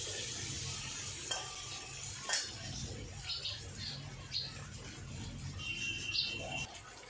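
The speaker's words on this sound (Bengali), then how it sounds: "আমার আলু আর পেঁয়াজ ভাজা ভাজা হয়ে গেছে" Potatoes and onions fry in a pan, a steady close sizzle with occasional stirring scrapes and clinks throughout, no talking.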